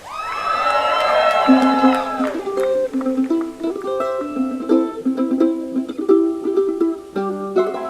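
Wedding guests cheer and whoop for a newly married couple at their ceremony; a burst of shouts fades into clapping and cheering as music plays over it, fairly close and loud.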